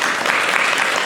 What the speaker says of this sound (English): Can we get a round of applause from us?